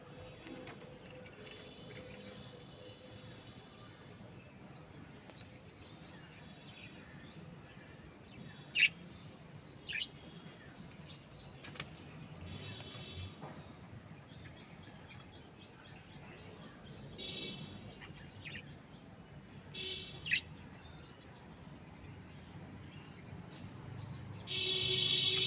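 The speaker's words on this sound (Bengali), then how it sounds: "এই যে আমার পাখিগুলো" Pet colony birds in their enclosure stay mostly quiet, giving only a few faint, scattered chirps and soft calls over a low, hushed background.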